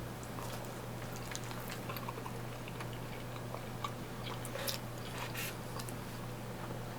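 Close, soft chewing of brunch food, bacon and home fries at a restaurant, a steady wet mashing texture with small crunchy bites over a constant low room hum and distant diner clatter.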